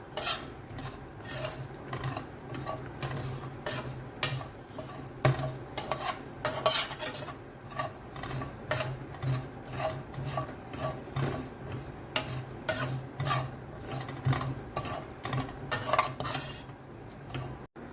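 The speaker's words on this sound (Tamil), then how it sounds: "இப்போ இதையும் ஒரு 4 to 5 மினிட்ஸ் நாம் நல்லா ரோஸ்ட் பண்ணிடலாம்" A spoon scrapes and stirs steadily through dry spices in a pan, with a soft sizzle underneath and repeated clinks against the metal.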